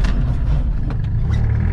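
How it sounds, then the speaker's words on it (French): A Ligier JS60 braking from 50 km/h on new tyres, heard from inside as a loud, steady low road and drivetrain rumble with faint clicks and knocks, with no tyre squeal. "On va essayer de faire un petit essai de freinage."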